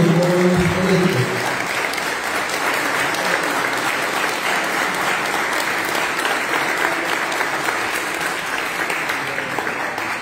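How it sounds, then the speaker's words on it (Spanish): Sustained applause from an audience for newly elected young council members, dense and steady throughout, with a brief voice at the very start before the clapping swells. "Un aplauso entonces para Juan Felipe y todos los jóvenes electos."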